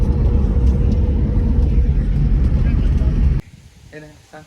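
A new Hero Xtreme motorcycle engine runs with a loud, steady, close rumble for about three seconds, then cuts off abruptly, leaving quiet background noise.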